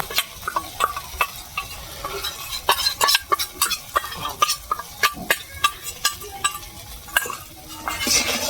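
A spice paste of ground coriander, cumin and chilli fries in oil in a pan for a chhena kofta curry, with a soft steady sizzle under repeated rhythmic clinks and scrapes of a stirring spoon against the metal pan.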